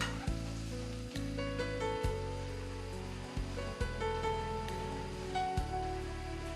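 Garlic sizzles and crackles in hot oil while a utensil scrapes and knocks against the pan in repeated stirring strokes.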